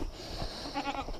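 Farm goats at feeding time bleat in a short burst, loud and close over steady outdoor background noise.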